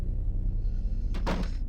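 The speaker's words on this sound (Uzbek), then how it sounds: "Yopib qo'yamiz eshikka." A door swings shut in a horror mobile game, a short scraping thud near the end over a steady low background rumble, with no voices.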